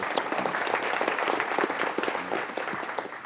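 Audience applause fills a council meeting chamber, dense steady clapping from many hands close by that holds at an even level throughout.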